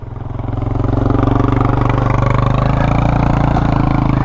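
Yamaha Raptor 250 quad engine running close and loud, a steady throbbing drone that builds as it accelerates through a gear change, with no talking over it.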